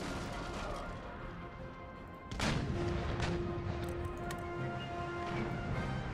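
Naval cannon fire in the video game Empire: Total War: one sharp, loud broadside blast cuts in midway over a continuous low battle rumble, followed by fainter scattered reports and a lingering tone.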